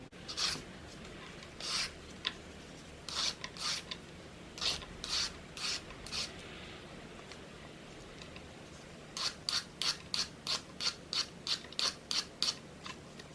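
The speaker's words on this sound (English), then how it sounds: "What I need to do first is peel the carrots, obviously." Carrots being scraped with a peeler in a home kitchen, a quiet run of short rasping strokes in two bursts, steady and evenly spaced, with no talking over them.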